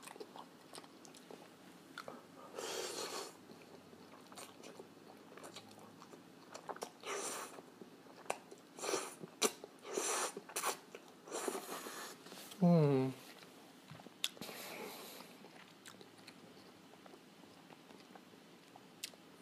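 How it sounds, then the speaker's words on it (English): Close, intimate mouth sounds of someone eating Jollibee Jolly Spaghetti noodles: repeated slurps, bites and wet chewing in bursts across a quiet room, with a short vocal sound midway. "slurping noodles just makes the noodles so much more tasty"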